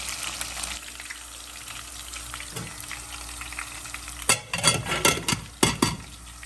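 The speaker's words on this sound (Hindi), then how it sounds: "आज का खाना तलने वाला है" Food frying in a home kitchen pan, with a steady sizzle throughout and louder bursts of crackling and stirring toward the end; no talking.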